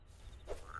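A single short frog croak in a video game, clear over a low steady background hum.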